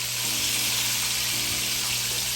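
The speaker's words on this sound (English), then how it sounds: "we're going to fry these lamb chops for about 2 more minutes" Steady, hissing sizzle of lamb chops frying in a hot pan, continuous and fairly close, with a low hum underneath and no voices.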